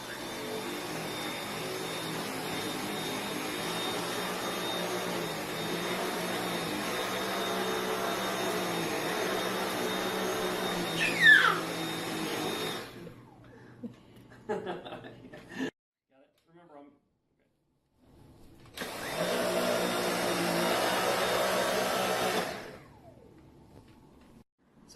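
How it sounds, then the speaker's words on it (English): A Dyson V8 Absolute cordless vacuum runs over carpet with a steady high-pitched whine and airy roar, close and loud, then cuts off, leaving brief quiet handling noises before the motor whirs again for a few seconds. "So just that little bit of vacuuming on the carpet picked up that much hair and dirt."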